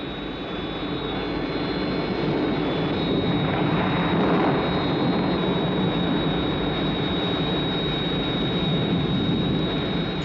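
An aircraft cruises level at 15,000 feet after climbing clear of cloud, a continuous loud jet-engine roar with a steady high whine, unbroken and constant.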